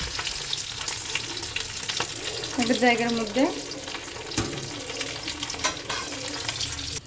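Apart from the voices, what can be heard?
fish head frying in oil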